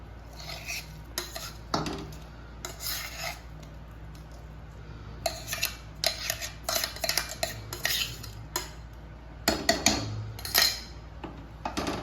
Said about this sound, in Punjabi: ਚੰਗੀ ਤਰ੍ਹਾਂ ਨੂੰ ਹਿਲਾ ਲਾਂਗੇ